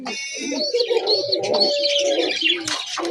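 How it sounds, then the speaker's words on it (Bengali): Pigeons close by making soft cooing and chirping calls, with some overlapping rustle and brief bright chirps, no talk. "এই হলো কবুতর"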